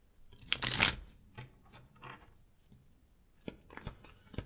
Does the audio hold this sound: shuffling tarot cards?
yes